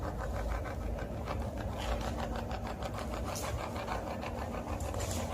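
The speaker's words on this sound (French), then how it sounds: "je vais mettre en route la Spirit Box. Dans cette pièce." A ghost-hunting Spirit Box sweeps through radio stations in a room of a tower, making a fast, continuous stream of choppy static pulses at an even rapid rhythm, moderately loud and without speech.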